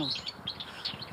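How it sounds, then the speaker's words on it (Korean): Sparrows chirp in quick, repeated bursts outdoors in an apartment complex in spring, several bright tweets spread across the moment at moderate distance, with no talking over them. "지금도 참새 소리가"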